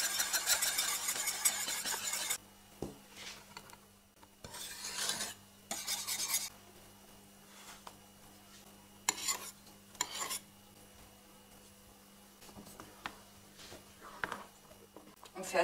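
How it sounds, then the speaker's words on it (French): A metal whisk scrapes and stirs firm Japanese cheesecake batter in a saucepan, rasping in irregular bursts against the pan's sides and bottom, with quiet pauses between strokes. "on va utiliser le fouet pour déjà bien détendre la préparation"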